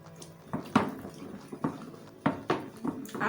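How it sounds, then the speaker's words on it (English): Carbolic acid poured into a homemade Izal germicide mixture, heard as a series of short splashy liquid pulses and knocks at irregular intervals, close and moderately loud, with no talking. "So the next chemical we are going to be adding is our carbolic acid. So you pour into the mixture."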